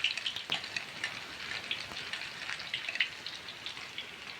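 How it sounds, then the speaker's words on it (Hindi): Whole round red chilies fry in hot tempering oil for masoor dal, giving a steady close sizzle with scattered crackles and pops and no talking. "अब जो है हम भगार के लिए इसमें पहले साबुत मिर्च डालेंगे गोल वाली"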